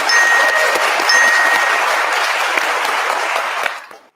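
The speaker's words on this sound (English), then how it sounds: "A round of applause." Loud, dense audience applause at a quiz event, a sustained wash of clapping for about four seconds before stopping abruptly.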